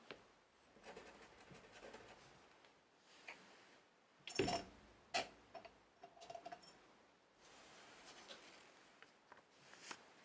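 Pen strokes scratch softly across paper at close range, quiet overall with a few sharper taps and scrapes punctuating the writing.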